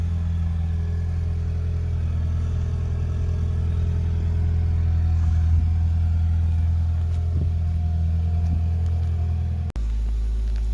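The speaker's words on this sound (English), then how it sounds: "Just getting ready to spin the car around and put the other side in." A Subaru WRX engine rumbles steadily nearby for about ten seconds while the car is maneuvered and turned around, then stops abruptly near the end.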